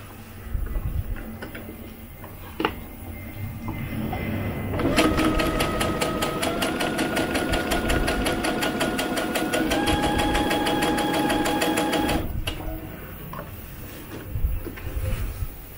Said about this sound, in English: So now we're going to sew these tabs down, and we're going to go in about 1/2 inch.